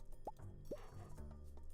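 Crops being watered with a watering can in Stardew Valley: two quick, soft, rising watery plops about half a second apart over a faint background tone.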